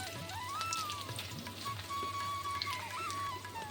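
Potato pieces go into hot oil with cinnamon, cumin and coriander in a frying pan for khichuri, a steady close sizzle running throughout with a faint whistling tone above it.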